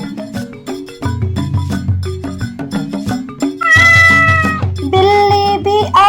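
Cat meows ring out in a children's Urdu nursery rhyme, several clear, tuneful mews near the end over a bouncy musical accompaniment.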